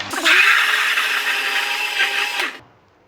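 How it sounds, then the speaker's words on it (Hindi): A kitchen blender grinds plum pulp with leftover cooking water for aloo bukhara juice, a loud steady whirring motor run lasting about two and a half seconds before it cuts off abruptly. No one speaks. "जी ब्लेंडर में मैंने इसका गुदा डाल दिया है और थोड़ा सा उसका जो बचा हुआ पानी का कढ़ाई वाला वो भी डाल दिया।"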